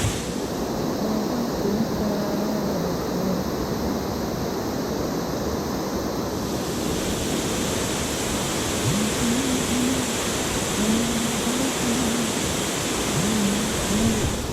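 A small waterfall on a trout stream pours in a steady, unbroken rush of water that stays loud and close throughout, with no one speaking.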